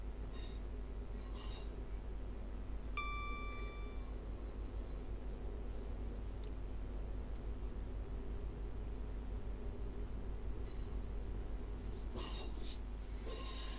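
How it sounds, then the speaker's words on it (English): A simulated train pulls into platform 14 at Manchester Piccadilly in a train video game, with a low steady rumble, a brief tonal squeal, and short bursts of wheel and brake noise, no talking. "So we're pulling into platform 14 at Manchester Piccadilly."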